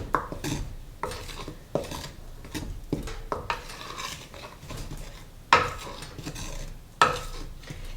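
Dry bannock ingredients and salt being mixed in a bowl, a series of distinct scraping and tapping strokes of a utensil against the bowl, fairly close and quiet, with no talking.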